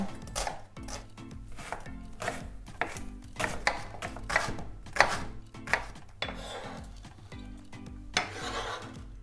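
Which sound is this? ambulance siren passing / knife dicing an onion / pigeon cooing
knife dicing an onion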